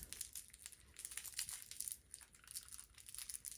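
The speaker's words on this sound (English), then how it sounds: "Look, it crinkles." A crinkly dog toy is squeezed and handled close up, giving repeated soft crackling crinkles in uneven bursts at a fairly quiet level.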